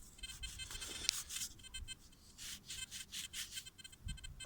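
Small dug-up coin, probably a Napoleon-era 5 or 10 centime piece, rubbed between fingers to clear off soil: soft, faint scratchy rasping strokes in an irregular rhythm, close to the ear, with no voices.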